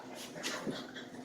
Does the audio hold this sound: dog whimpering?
yes